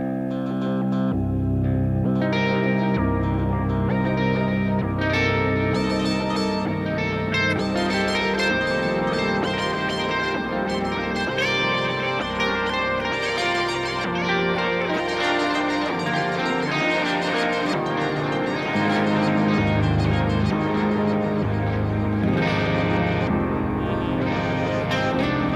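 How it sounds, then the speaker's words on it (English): Dense, shimmering guitar music with pitch-shifted tape-delay repeats trailing into long echoes and a wash of Plex reverb, sustained and loud throughout with no talking. "So it's going to do some old school pitch shifting stuff"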